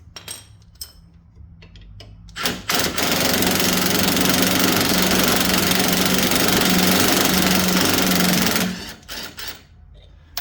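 A lawn tractor engine with a loose bushing and heavy vibration starts up and runs loudly and steadily for about six seconds, then cuts off, with faint clicks and handling noises before and after.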